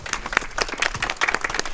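Crowd applause at a memorial ceremony for a fallen activist: brisk, uneven clapping from a gathered audience, fairly loud and close, with individual claps standing out over the general patter and no speech.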